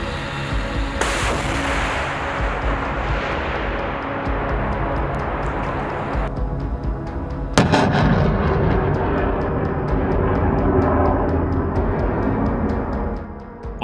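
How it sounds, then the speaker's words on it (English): A continuous roar of heavy blasts and rumbling from HIMARS rocket strikes and air defense fire, with sharp cracks near the start and midway, loud and sustained like distant explosions and artillery. "Explosions can be heard"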